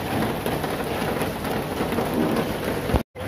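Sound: rain falling at a tea plantation coffee stall

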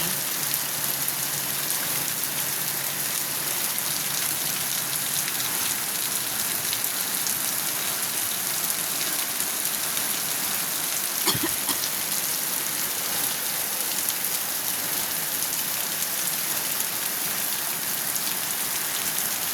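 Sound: rain falling

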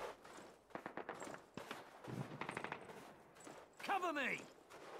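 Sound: automatic weapon gunfire in Call of Duty video game

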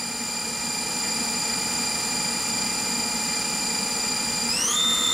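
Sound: Bridgeport VMC 800 CNC machining center spindle at 2000 RPM

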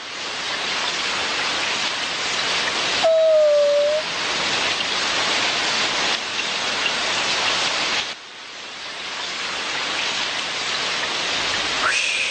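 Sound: rain falling, in a Shin chan cartoon

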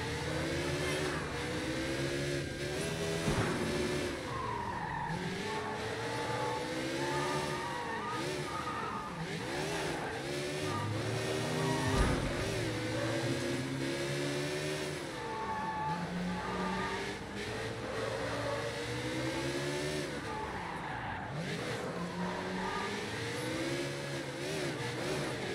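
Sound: motorcycle engine revving in the video game Sleeping Dogs

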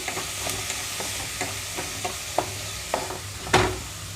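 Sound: green chillies, peanuts and tindora pieces frying in pan

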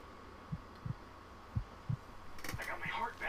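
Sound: heartbeat sound from the video game Blood Will Tell

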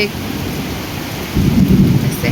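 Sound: thunder rumbling in the sky

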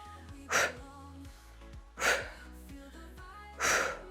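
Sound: forceful exhale during a strength workout

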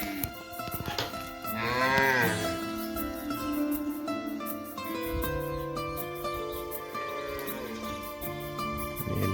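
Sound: cows in a tribal village in the morning

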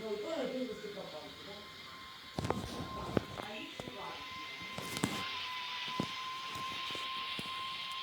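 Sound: airplane rolling on runway after landing

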